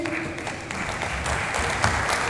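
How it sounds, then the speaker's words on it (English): An audience applauds at a presentation event, a brief burst of steady clapping heard from the room at moderate volume. "Huge round of applause, please."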